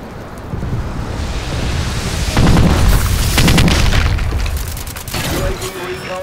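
Video game bombing run: a dense barrage of booming explosions and sharp cracks rumbles continuously, loud and close, with heavier blasts in the middle stretch, and game voice callouts are mixed in.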